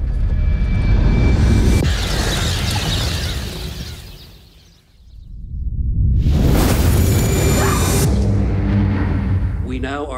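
A comet fragment impact explosion from a film trailer roars loud and broad, fades to a brief near-silence, then erupts again into a massive rumbling blast with debris noise.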